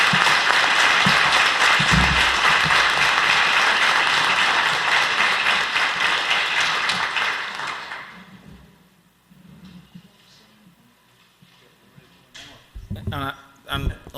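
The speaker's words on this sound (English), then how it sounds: "And I think he deserves a round of applause and a thank you from the town." Audience applause at a town meeting in a hall, sustained clapping from a crowd for about eight seconds that fades out, followed by quiet room noise and faint voices.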